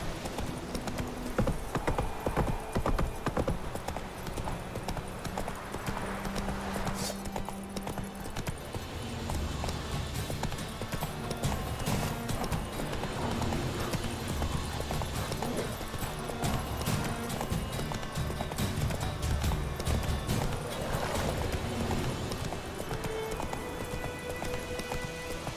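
Horse hooves galloping in The Witcher 3, a steady quick clip-clop rhythm running throughout at moderate level, with faint game ambience beneath and no talking.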